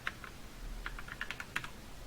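A password being typed on a computer keyboard while logging into a Ubuntu server, heard as quiet, irregular key clicks in short clusters with no talking.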